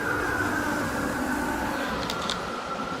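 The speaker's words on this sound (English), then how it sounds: "Big tractor going over." A big tractor's heavy, steady engine rumble rolls past at close range by a river, broad and continuous throughout, with a couple of brief high clanks near the end.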